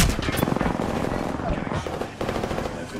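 Rapid automatic gunfire fills a round of the Apex Legends battle royale game, with dense, continuous bursts of rattling shots and a brief gap before the firing resumes.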